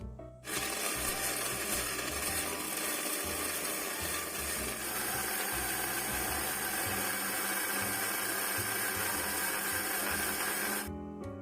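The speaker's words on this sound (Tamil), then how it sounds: "ஆற வச்சு நான் இப்போ மிக்ஸி கப்பில் போட்டு அரைக்க போகிறேன்." A mixie grinder cup blending cooled sautéed onion, tomato and masala into a paste for mutton head curry, running as a loud steady whirring motor for about ten seconds, then stopping abruptly.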